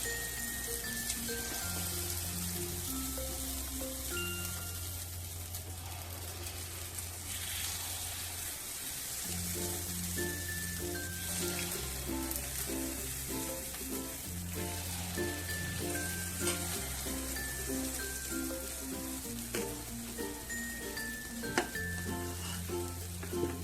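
Spoonfuls of mixed dal and rice appe batter go into hot oil in an appe pan, and a steady, soft crackling sizzle runs under prominent melodic background music.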